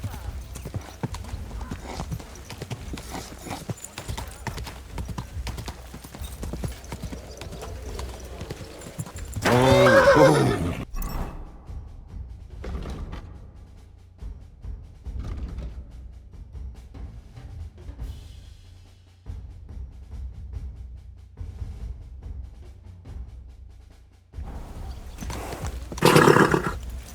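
Horse hooves clip-clop in a steady rhythm in Kingdom Come: Deliverance II, broken by loud neighs and whinnies, with spoken dialogue heard at times over the hoofbeats.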